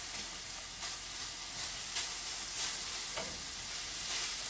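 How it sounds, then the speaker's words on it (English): Peppers sizzle and fry in a pan with ground venison, a steady bright hiss with occasional crackles and pops and no talking. "I do want to try to let these peppers cook with this."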